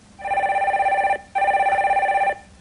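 A telephone rings for a radio call-in line, two steady trilling rings of about a second each with a short gap between them, clear and close, with no talk.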